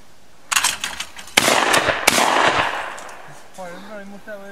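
Several sharp, loud blasts from a pump-action Savage shotgun at an outdoor clay shooting session, spaced about a second apart, followed by brief voices talking nearby.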